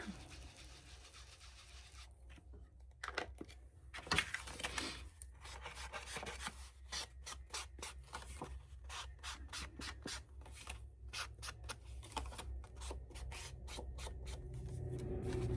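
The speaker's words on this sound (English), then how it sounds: "I'm just gonna ink around there." Ink being applied around the paper edges of a handmade keepsake folio, heard as soft repeated rubbing and dabbing scrapes close up, irregular at first and then settling into a steady rhythm of brushing strokes.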